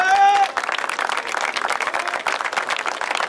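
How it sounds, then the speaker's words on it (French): An audience at a community event claps together in a dense, continuous burst of applause that starts abruptly and holds steady. "Qu'elle soit saluée et qu'on les applaudisse très très fort."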